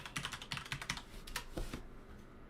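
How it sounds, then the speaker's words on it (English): Quick, faint typing on a computer keyboard, a short burst of light clicking keystrokes close by that ends in quiet, with no talking. "Type in recursion."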